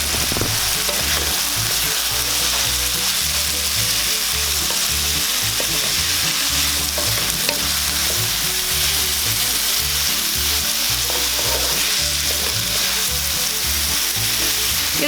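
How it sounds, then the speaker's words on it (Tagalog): Tomato and bitter gourd (ampalaya) fry in a pan for an ampalaya-with-tofu dish, a loud, steady sizzle that runs unbroken throughout with no voices. "Lulutuin lang po natin ng konti yung ating kamatis. Ngayon, isunod na po natin itong ating ampalaya."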